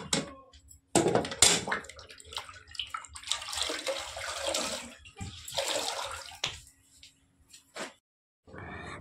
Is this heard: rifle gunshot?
no